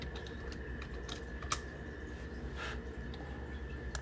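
Computer keyboard typing while entering a search in PowerPoint's Get Add-ins store, a quick run of light, irregular key clicks close to the microphone over a steady low hum.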